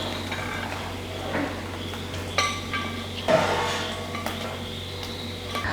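Fried idli, browned in a pan, are scooped onto another plate. A few sparse metallic clinks and taps of a utensil against cookware sound over a steady low hum.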